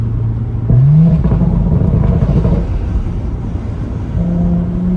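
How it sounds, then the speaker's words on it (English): A tuned Audi S5 with an upgraded TTE710 turbo and exhaust flaps open rumbles loudly up close, rising in a short rev with faint crackles and pops over a steady low drone. "exhaust flaps open. A little bit of crackles going on."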